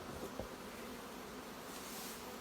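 Honey bees hum in a steady, soft drone around an open hive during inspection, with a brief faint rustle early on and no talking.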